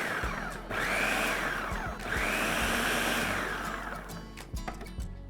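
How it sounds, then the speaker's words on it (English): A food processor pulses eggplant dip with miso and tahini into a puree, loud whirring bursts that rise and cut off in short rhythmic pulses, close and dominant. "I'm just going to puree this now. I'm going to pulse it so I can keep a little bit of control over the texture."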